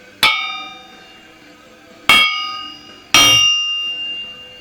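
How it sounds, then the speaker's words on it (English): Three sharp metallic strikes on an uncracked steel crankshaft, each ringing on with a clear bell-like tone that slowly decays; the last two come close together. "If you hit a crankshaft, if it's steel and it sounds like a bell"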